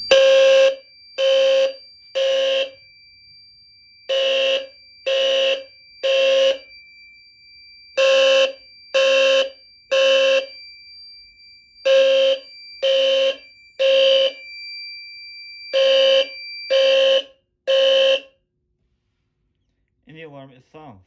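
Fire alarm system under test, sounding a loud electronic horn in a steady pulsed pattern of short bursts, repeated in groups, up close, then cutting off when silenced with faint sounds after.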